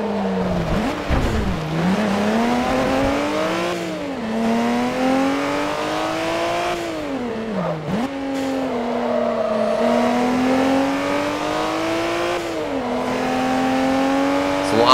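A Nissan Skyline in Forza Motorsport 3 revs and shifts through gears during a coupe road race, its engine note rising and dipping repeatedly and staying loud and continuous throughout, with no talk.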